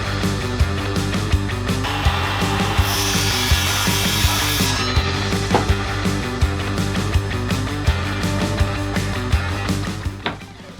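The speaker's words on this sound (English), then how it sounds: "I was ripping with that Big Daddy saw" A large power saw ripping along a wooden board, a loud continuous whining buzz with a steady low hum and repeated rhythmic pulses, close by, with a brief brighter burst midway, winding down at the end.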